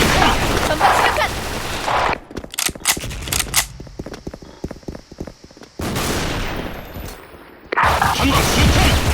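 Grenade blast and bursts of gunfire in the online shooter Special Force, loud stretches of explosion noise broken by quick separated shots, with a shouted voice in between.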